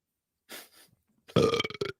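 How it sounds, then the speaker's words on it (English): A person burps close by, a short faint croak followed by a louder, longer belch that breaks into a few choppy pulses at the end. "I learned how to burp"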